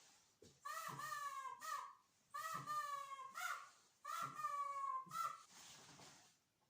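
A bird call repeats in three clear bursts, each a pair of harsh, nasal cawing notes with short pauses between, close and loud.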